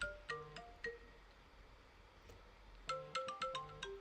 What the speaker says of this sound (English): I love my timer ringtone.